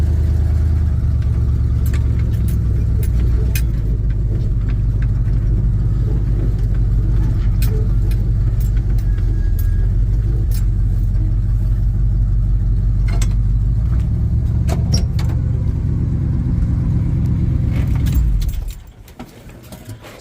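An old Jeep J10 work truck drives a short stretch on a farm, its engine droning loud and steady with rattles and clinks from the cab, then cutting off abruptly near the end.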